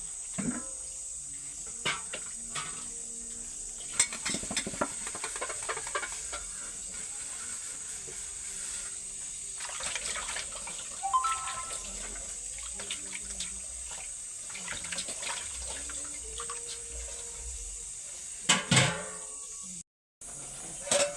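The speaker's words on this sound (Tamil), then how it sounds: "நான் உங்களுக்கு இது மட்டும் கழுவி வீடியோவில் காட்டுறேன்" Water runs steadily from a tap into a small kitchen sink while dishes are washed, with scattered clinks and clatters of utensils over the continuous hiss of flowing water.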